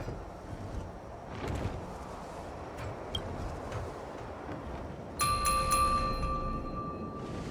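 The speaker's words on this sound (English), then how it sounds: "We could try ringing the harmonic chime" A harmonic chime rings in a fantasy video game, entering at about five seconds as a bright, sustained metallic tone with shimmering overtones over a steady ambient background, lingering loudly to the end.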